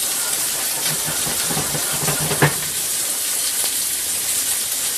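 Red wine sauce simmers in a pan on the stove, giving a steady bright sizzling hiss with faint bubbling pops throughout.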